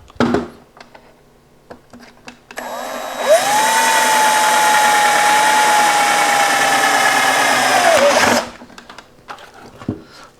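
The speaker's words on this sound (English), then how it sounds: "Same 1/4 inch drill bit." A power drill with a 1/4 inch bit bores through a dash panel in an FJ Cruiser, its high whine rising, holding steady for about five seconds, then winding down, close and loud, with faint handling noises around it.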